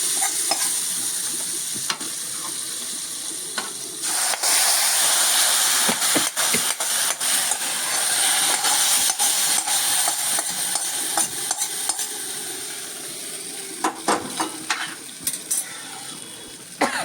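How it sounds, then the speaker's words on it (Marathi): Hot tempering poured over ambadi greens in a pan erupts into a loud, sustained hissing sizzle that swells to full intensity, then settles into a steady fry broken by scattered clicks and scrapes of stirring. "आता ही फोडणी ह्या भाजीवर आपण ओतूया"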